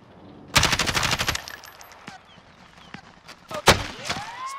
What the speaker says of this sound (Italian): Sparano. Ah, spara a me.